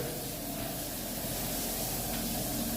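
Water runs from a shower in a public bathing area, a steady close hiss of spray that stays level throughout with no one speaking.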